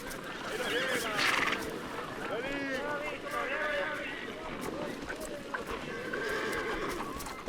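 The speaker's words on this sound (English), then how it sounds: "it is time for the annual roundup of the mares and foals" Horses neigh and whinny repeatedly during an annual roundup of mares and foals in a wetland park, the calls overlapping at mid distance over hoof movement and steady outdoor background, with a narrator talking throughout.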